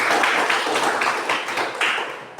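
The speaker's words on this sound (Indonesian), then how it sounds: "Sekarang saya minta Anda semua tepuk tangan untuk seluruh kelompok." Children in a classroom clapping for the whole group, a close, loud burst of many hands with uneven rhythmic pulses, continuing steadily for a couple of seconds.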